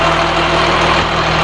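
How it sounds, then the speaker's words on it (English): A Cat C7 diesel, a 2004 engine fitted in a 2005 Blue Bird All American school bus, idles steadily up close with a loud, even rumble and constant hum and no break. "let's check out this Cat C7. Again, that is a 2004 engine coming along there."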